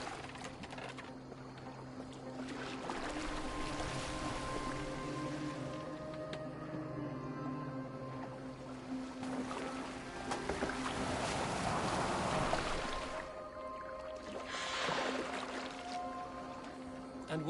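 Boat moving across water in the video game Assassin's Creed Valhalla, a continuous hull-and-water wash with low tonal hum, swelling into louder splashing surges near the middle and end, no voices.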